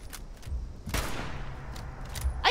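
Game gunfire in Fallout 76 cracks out as a sustained burst of shots mid-clip, with fainter isolated shots before and a sharp report at the end, no talking.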